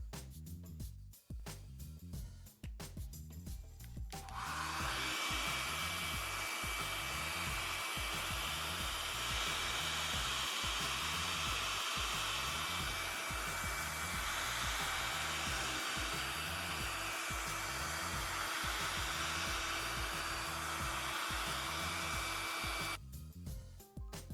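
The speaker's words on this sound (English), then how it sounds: "I use my wife's hair dryer, and it works pretty good all the time" A hair dryer used as a heat gun on a phone's LCD display whirs loudly and continuously for about twenty seconds, preceded and followed by brief clicking and handling noises.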